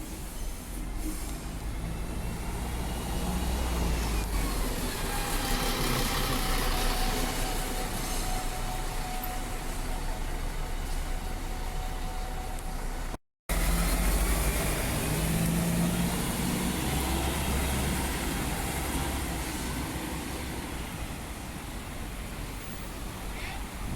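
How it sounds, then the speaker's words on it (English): A Swan Transit bus engine runs steadily as the bus departs, a loud continuous rumble and drone lasting the whole stretch with a brief cutout midway, outdoors near the roadside. "Oh, that engine noise is just spectacular."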